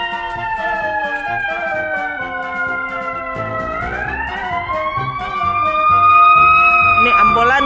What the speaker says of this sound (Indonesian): Ini ambulans di mana-mana gitu.